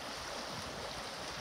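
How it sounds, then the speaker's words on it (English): White water rapids on the Stanislaus River, a brief, continuous broadband rush of churning water, fairly close and steady with no talking. "A little bit of drop down right here, some white water."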